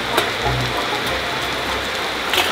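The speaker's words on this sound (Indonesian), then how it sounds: "Wah, keras hujannya ini." Heavy rain pours steadily onto a surface outdoors, a dense continuous hiss with a few louder drops and thumps, no voices over it.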